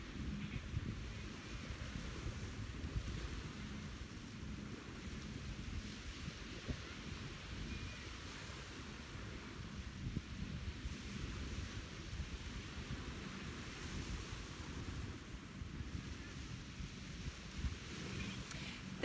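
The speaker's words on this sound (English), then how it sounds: "listen to those waves" Ocean waves wash steadily onto a beach at sunset, a continuous broad rushing surf with gusts of wind buffeting the microphone throughout and no voices.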